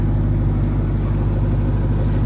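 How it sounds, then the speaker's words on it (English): Exhaust of a Pontiac Grand Prix GTP running close up, a loud, steady low-pitched engine drone with a heavy rumbling hum and no talking. "I love the sound of the exhaust."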